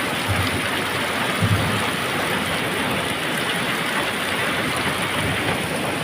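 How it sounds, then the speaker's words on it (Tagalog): Heavy rain pours down steadily in Valenzuela, a dense continuous hiss close by, with a faint low engine-like rumble underneath and no talking. "Lakas ng ulan guys."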